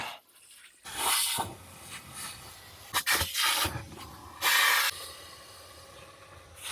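Water sprayed to rinse nasty, smelly sludge off a ten-year-old homemade koi pond filter: hissing, splashing bursts that come and go, with a strong, close surge near the middle and quieter dribbling between the bursts.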